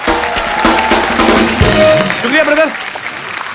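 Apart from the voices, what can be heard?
loud applause from studio audience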